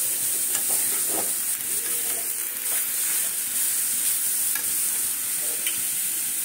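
Cauliflower curry stirred and mixed in a pan of hot oil with a pinch of asafoetida, giving a steady close sizzle with scraping stir strokes throughout.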